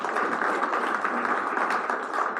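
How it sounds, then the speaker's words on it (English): A graduation audience at a child health and research institute gives another round of applause, a dense, steady wash of many hands clapping that stays even and fairly close throughout. "So give yourself another round of applause."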